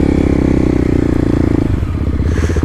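A Kawasaki KLX dirt bike with an FMF exhaust ripping through town, its engine loud and close with a steady pulsing roar that drops in pitch as the rider shifts, with no talk.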